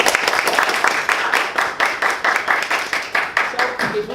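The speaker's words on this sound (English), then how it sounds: "Round of applause for her." A small workshop audience claps in a loose, uneven round of applause, individual hand claps clearly audible in a rapid pulsing rhythm, close and fairly loud.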